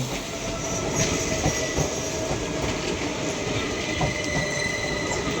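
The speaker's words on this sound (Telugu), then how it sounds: "ఈ ట్రైను సికింద్రాబాద్ నుంచి వాస్కోడిగామా గోవా వెళ్తున్న గోవా ఎక్స్ప్రెస్" The Goa Express passenger train, Secunderabad to Vasco da Gama, rumbles steadily past close by at a station, a continuous roar of wheels on rails with faint metallic squeals and clatter throughout.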